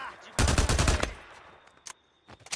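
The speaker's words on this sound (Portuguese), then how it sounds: "Ele atirou em mim." An enemy opens fire on the player in Days Gone, a single fast automatic burst of about ten close, punchy shots lasting under a second, followed by a couple of scattered softer hits and quiet.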